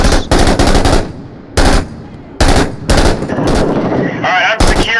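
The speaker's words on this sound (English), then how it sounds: "I'm providing suppressant fire" Bursts of automatic rifle fire in the video game Six Days in Fallujah, shown as body-cam gameplay. The loud, close bursts come in quick clusters separated by short pauses, with a brief faint voice underneath.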